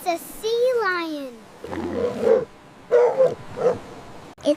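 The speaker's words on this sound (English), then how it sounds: "It's a sea lion." A sea lion gives a rising, drawn-out call followed by a series of hoarse, barking roars in short bursts, fairly close and clear against a quiet background.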